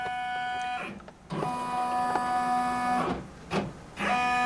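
An embroidery machine traces the design outline around its hoop, giving close, steady motor whirs in several runs separated by brief pauses and short stepping sounds.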